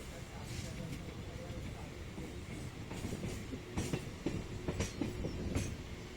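A local train runs between Santragachi and Howrah, its wheels rumbling and clattering rhythmically over the rails, with sharp clacks building toward the end and a voice talking over the noise.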